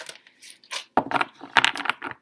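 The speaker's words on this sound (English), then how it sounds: "if I clunk the cards on the table, it could be loud" A handful of sharp clacks and shuffling knocks as tarot cards are handled and tapped down on a table, close by and irregular.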